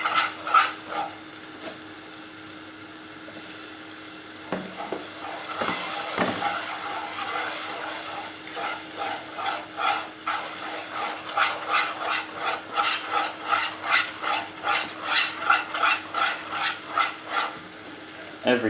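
A spoon or whisk works through lasagne white sauce in a pan as milk goes in, starting as soft scraping and building into a steady, rhythmic stirring swish that grows louder toward the end.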